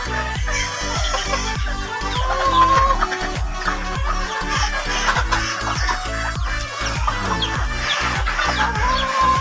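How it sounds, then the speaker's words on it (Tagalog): Farm chickens cluck steadily and close by, with overlapping calls from several birds and no talk over them. "may manok din akong binukod dito"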